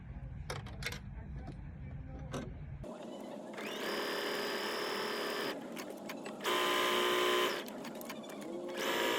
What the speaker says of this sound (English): we are simply going to sew 1/4 inch around all four sides